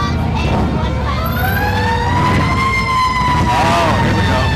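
Fire truck and police car sirens wail at a 2023 Park Cities Fourth of July parade. Rising and falling tones sweep loudly through a dense, steady wash of crowd and street noise.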